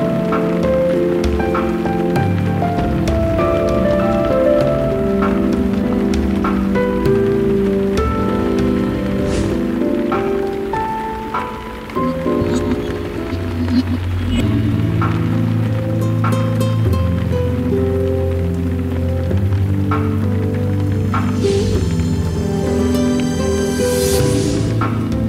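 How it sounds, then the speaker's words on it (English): Steady rain falling throughout a scene in the video game Rusty Hearts, a dense continuous patter mixed under a sustained musical score, with no talking. "I don't think the rain will stop anytime soon."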